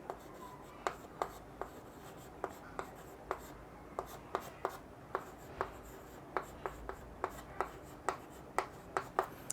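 A pen writes a quadratic formula on paper in a quiet room, with a run of sharp, close scratching strokes and taps coming in quick irregular bursts.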